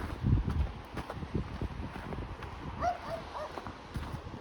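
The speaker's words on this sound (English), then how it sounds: "Oh, here we go with the dog barking." A dog barks a few times at a distance on the York Beltline Trail in Toronto, short sharp yaps over a windy, rumbling background.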